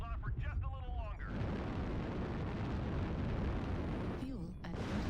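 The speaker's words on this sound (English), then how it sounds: "Warning, incoming missile." A loud, sustained missile explosion rumbles through a MechWarrior Online battle, a broad roaring blast lasting several seconds, with a synthetic voice speaking briefly before and after it.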